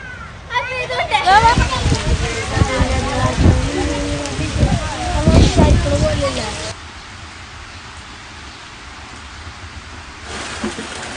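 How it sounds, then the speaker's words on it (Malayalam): Steady rain falling at a beach park, a broad hiss that runs through the whole stretch, louder at first under voices that talk and shout over it, then softer and more even once the talking stops. "മഴയാണ്."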